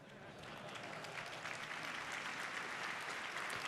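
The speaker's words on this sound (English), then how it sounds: "Why are we clapping?" Audience applause at a live tech keynote, a steady wash of many hands clapping that holds evenly for several seconds at moderate distance, with a few voices mixed in.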